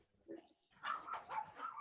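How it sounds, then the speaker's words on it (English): A loud dog barks in a few quick bursts, following a short softer yelp, the barks fairly close and repeated in an uneven rhythm. "So somebody's got a loud dog."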